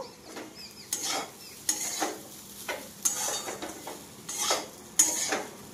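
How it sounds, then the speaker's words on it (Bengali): Semolina and potatoes being stirred together in a pan, a spoon scraping and clinking against the metal in repeated bursts about once a second, close and alone with no talk. "দিয়ে একসঙ্গে সব কিছু আবারও আমি ভালো করে মিশিয়ে নেব"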